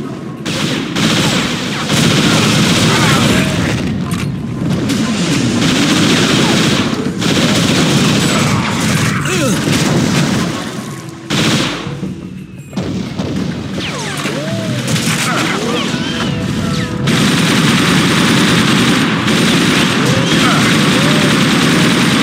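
Repeated gunfire and explosive bursts in the video game TimeSplitters Future Perfect deathmatch, running nearly nonstop and loud through the whole stretch with a brief dip midway, with speech mixed in among the shots.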